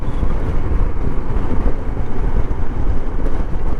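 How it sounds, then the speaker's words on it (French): Strong gusting wind at Lake Lugano roars loudly and continuously across the microphone, a dense low rumble with no voices. "il y a un vent à décorner les bœufs"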